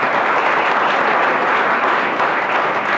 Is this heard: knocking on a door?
no